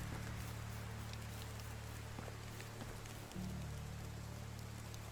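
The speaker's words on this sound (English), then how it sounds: "I don't know if that's the wind or it kind of sounds like rain." Steady rain falls in the video game Medieval Dynasty, a continuous hiss of droplets over a low constant hum, with no voices.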